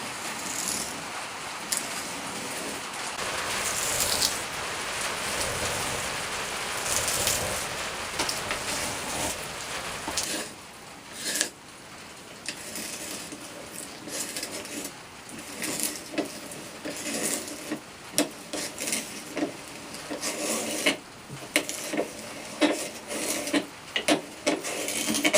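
A rounding plane shears a thick shaving from wood, a long dense rasping scrape that later breaks into choppier strokes and rustles, close and fairly loud.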